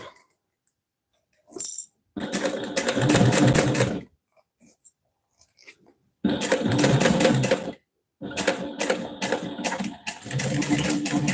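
A sewing machine top stitches a vinyl wallet with directional vinyl, in several loud close bursts of rapid stitching separated by pauses.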